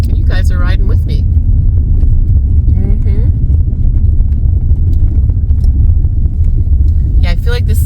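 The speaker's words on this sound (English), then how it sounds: "Breaking a land speed in a Honda Element." A Honda Element driving fast across a desert playa, its steady loud rumble of engine and road noise filling the whole stretch, with brief voice sounds near the start and end.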